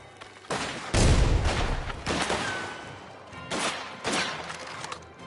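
Rapid gunfire erupts in bursts during a Mafia: The Old Country firefight, several loud volleys of rifle shots cracking with short gaps between them and no talk over them.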